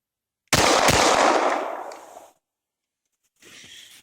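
FNX 45 pistol fired outdoors, a loud burst of blasts that decays into a long echoing tail, followed by a fainter shot after a pause.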